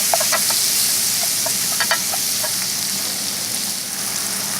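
Pork chops frying in a pan, a loud continuous sizzle with a few sharp pops and crackles near the start, close by and without talk.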